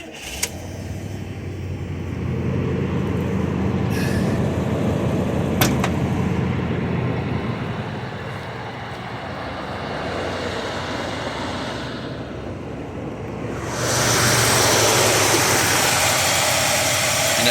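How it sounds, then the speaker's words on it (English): A 1976 Buick Electra Park Avenue with a 455 engine starts up and runs. After a brief start, it settles into a steady, smooth idle, and the engine grows louder near the end. "So here is the Park Avenue starting and running."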